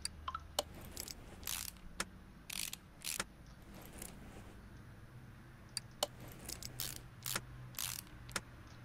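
Ratchet tightening U-bolts over a leaf spring plate in the game Car Mechanic Simulator, heard as quiet bursts of sharp mechanical clicks spread irregularly across several seconds.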